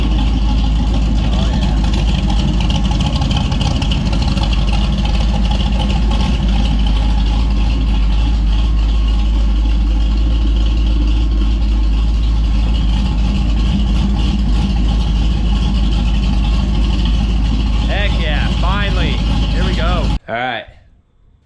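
A low custom car's engine idles steadily and loudly close by for about twenty seconds, with a constant rough rumble that cuts off abruptly near the end.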